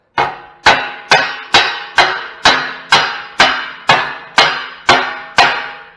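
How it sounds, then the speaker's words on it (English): Hammer striking metal on the engine of a 1977 Ford F-250 crew cab pickup during restoration: eleven loud, evenly spaced ringing blows about half a second apart, each with a short decaying clang, close up and alone. "let's just hammer on there."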